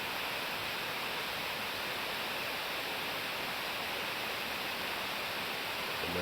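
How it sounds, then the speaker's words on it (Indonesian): A waterfall at a long-closed, forgotten bathing spot pours steadily, a dense, even rush of water that continues unchanged throughout with no other sounds. "air terjun yang terlupakan"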